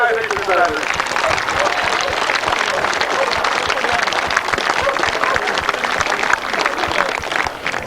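Crowd at a grasstrack racing meeting cheers and applauds for the winners of the 1000cc sidecar race, a steady dense wash of clapping and shouts throughout, loud and close, with occasional voices mixed in.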